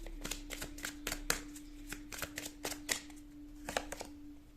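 Tarot cards are shuffled in quick, crisp riffling bursts close up and fairly quiet, with a faint steady hum underneath and no speech.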